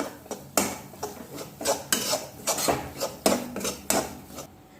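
A spoon scrapes and knocks against a pan as lemon juice is stirred into a masala, repeated rhythmic scraping strokes at close range, fairly loud with no talking.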